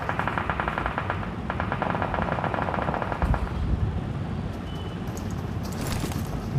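Continuous automatic gunfire from a tournament video game match, rapid, steady rattling bursts running nearly unbroken throughout, fairly loud and dense with no speech.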